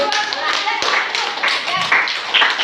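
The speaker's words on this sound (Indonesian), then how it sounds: "Oke, tepuk tangan." Students clap together in a classroom during a microteaching lesson, a dense, uneven burst of hand claps with some voices mixed in beneath.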